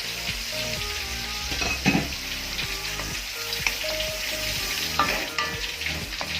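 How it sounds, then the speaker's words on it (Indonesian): Bay leaves, lime leaves, lemongrass and curry leaves sautéing in a pan for a curry sauce, a steady close sizzle and crackle with occasional stirring scrapes running throughout. "Kita tumis sampai wangi."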